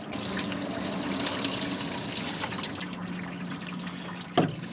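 Coolant water draining from an International 4x4 truck's cooling system into a bucket, a steady close trickle and splash that runs on before a single louder knock near the end.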